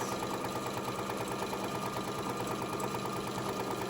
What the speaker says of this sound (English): I'm just going to sew right across